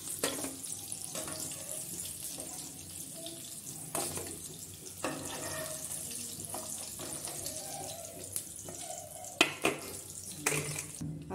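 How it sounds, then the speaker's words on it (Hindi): Paneer frying in hot oil for chilli paneer, a quiet steady sizzle with scattered sharp clinks and scrapes of a utensil against the pan. "पनीर अच्छे से फ्राई हो चुके हैं, अब हम इन्हें निकाल लेते हैं।"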